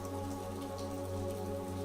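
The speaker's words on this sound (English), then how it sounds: "watching the rain cascade down" Steady rain falls across the stone streets and old buildings of Verona, Italy, a dense, even hiss of droplets heard from under a shelter, running alongside a sustained, calm musical tone.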